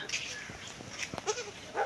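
A few short, faint bleats from a newborn goat kid with its mother, broken and irregular, with soft voices and rustling close by.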